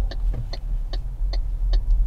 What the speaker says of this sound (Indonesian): Bunyi dari relay bukan dari audio.